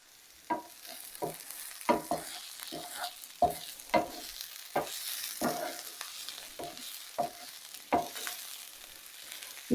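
Pork and beef meatballs cook in a pan with wine, giving a faint, quiet sizzle broken by a series of sharp scraping and clacking stirs at irregular intervals.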